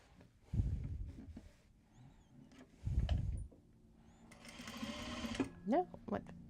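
A sewing machine runs in short bursts while stitching fabric for a Japanese fabric tote bag, with quiet gaps and clicks between runs and a person speaking nearby.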